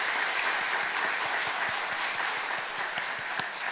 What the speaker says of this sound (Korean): 우리 박수로 한번 격려했으면 좋겠습니다